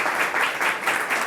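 Audience applause welcoming Hilmar Pétursson to the stage at a talk, steady sustained clapping from a crowd throughout the short moment, with no voices over it.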